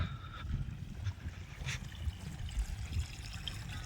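Water trickles and gurgles steadily close by through a breach in a paddy field channel, a low continuous flowing with small splashes, no voices.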